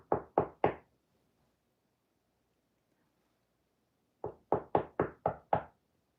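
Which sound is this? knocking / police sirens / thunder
knocking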